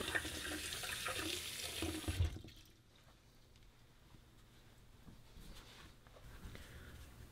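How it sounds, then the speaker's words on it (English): Shaving razor parts rinsed under a running tap, a loud steady gush of water that cuts off after about two seconds, leaving faint dripping and quiet room noise. "rinse all the parts to remove all the soap."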